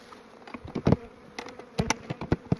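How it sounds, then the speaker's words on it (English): Honey bees buzzing around an open Apimaye hive during an early-season check, a close, uneven insect hum broken by sharp bumps and handling knocks, with no voices. "all kinds of bees in here"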